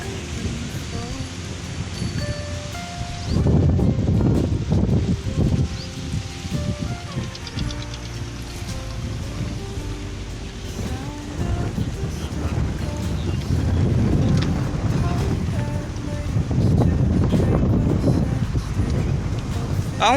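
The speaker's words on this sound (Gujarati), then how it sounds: "બહુ મસ્ત પવન છે અહીંયા તો" Strong wind at Nari lake buffets the microphone in rough, surging gusts that rise and fall. Soft music plays underneath.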